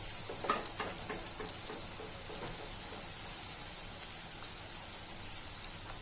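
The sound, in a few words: chopped onion sautéing in a pan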